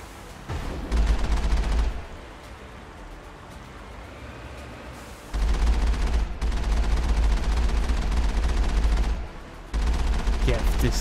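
Gunfire in the video game Mass Effect comes in dense rapid bursts, loud and close, separated by quieter stretches with music and scattered game sounds.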